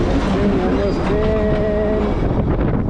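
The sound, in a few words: train passing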